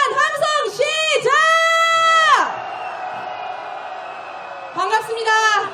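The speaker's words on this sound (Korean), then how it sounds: "윤석열 탄핵에 대한 함성 시작!" Crowd at a candlelight rally in Seoul calling for President Yoon Suk-yeol's impeachment raises loud sustained shouts and whoops, voices swelling together for about two seconds, then a noisy lull before another burst of cheering near the end.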